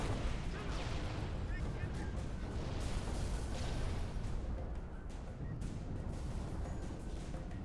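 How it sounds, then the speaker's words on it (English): Gunfire in the video game Halo Reach: a dense, continuous wash of rapid shots and booming blasts, loud and unbroken throughout. "Keep shooting, Noble 6"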